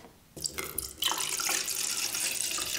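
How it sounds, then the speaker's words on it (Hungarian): Roughly two decilitres of distilled water being measured out for a homemade natural cleaning product: a soft splash begins, then a steady, close, continuous pour of running water, louder from about one second in, with no talking. "egy közel 2 decinyi desztillált vizet ki fogok most mérni"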